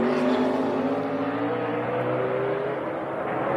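William Sawalich's race car at full throttle on a practice and qualifying lap, its engine note loud and close with steady harmonics that rise slightly as it accelerates through the carousel, with no talk over it.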